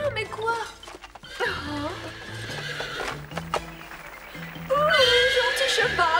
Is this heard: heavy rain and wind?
no